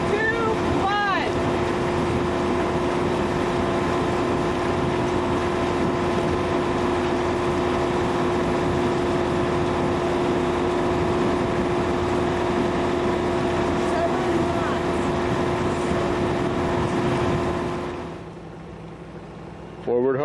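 Engine of the schooner Bluejacket running steadily underway, a loud continuous droning hum with a constant tone that holds for most of the span, then drops away near the end.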